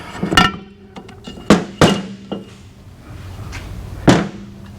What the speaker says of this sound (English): Now with the case assembly split, we can slide out our flywheel assembly.